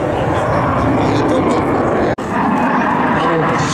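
A MiG-21 fighter jet performs at an air display, its loud, steady engine roar filling the whole stretch apart from one brief dropout, with talk likely mixed in.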